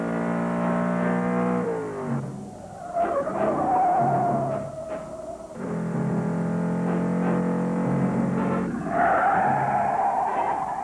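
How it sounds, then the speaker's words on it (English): A Dodge Challenger driven hard, likely in 1969 NASCAR-era racing, with an engine note that rises and falls and bursts of squealing tires and skidding between gear changes. It sounds loud and close, with no talk. "Our driver twisted this Challenger every way but loose"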